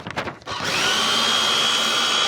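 Paper shredder shredding papers: a few brief rustles, then the motor kicks in with a loud, steady grinding whir that continues close and unbroken.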